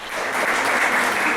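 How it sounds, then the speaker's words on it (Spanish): A church congregation applauds steadily, a dense wash of clapping that holds at an even level throughout. "Denle un aplauso."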